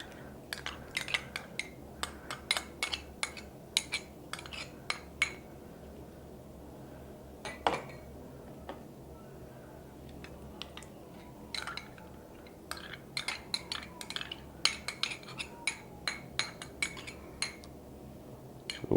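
A spoon clinks and scrapes repeatedly against a bowl as yogurt and bananas are mixed, quick irregular taps close by in a quiet room.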